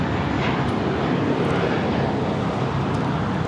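A JetBlue Airbus A321 takes off at LAX bound for Fort Lauderdale. Its jet engines give a loud, sustained roar that stays strong and steady from start to finish, with no talking heard.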